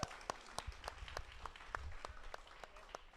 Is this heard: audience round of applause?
yes